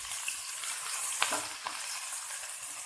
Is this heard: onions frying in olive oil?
yes